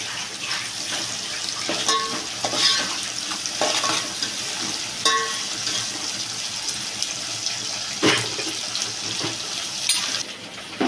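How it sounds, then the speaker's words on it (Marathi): Ginger garlic paste sautés in hot oil for a Konkani jackfruit bulb curry, a dense hissing sizzle with scattered spoon taps and scrapes against the pan, close and steady with no talking. "आलं आणि लसूणची पेस्ट जी आपण टाकली आहे ती तेलात छान असं परतून घ्यायचं आहे"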